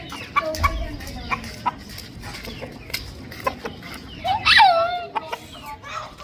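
A hen clucks close by in a domestic setting, with short, scattered clucks through the clip and a louder, rising squawk near the end over a quiet background.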